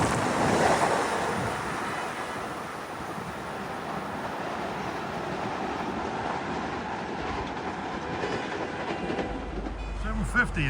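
An LIRR commuter train, a Ryder Cup Extra from Penn Station to Farmingdale, passes Queens Village station with a steady broadband rumble and rush of wheels on rail that holds throughout, close and fairly loud.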